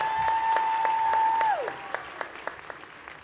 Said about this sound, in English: Big round of applause for Kiana Aguilar.